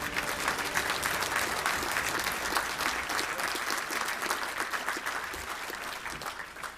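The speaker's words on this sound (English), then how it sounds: "another big round of applause for your high school players and coaches of the year" A banquet crowd at a touchdown club awards dinner gives sustained applause for high school football players and coaches of the year, loud and continuous throughout.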